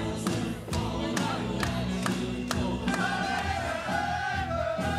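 Crowd noise swells steadily through a World Cup of Pool quarter final between Spain and Great Britain, with a busy, continuous roar broken by sharp repeated claps or bangs.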